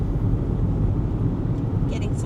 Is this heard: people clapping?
no